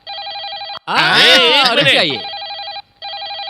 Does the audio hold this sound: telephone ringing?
yes